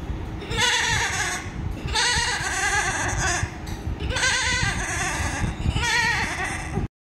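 A voice imitates a goat's bleat, giving four long wavering bleats in a row with short pauses between, close and clear.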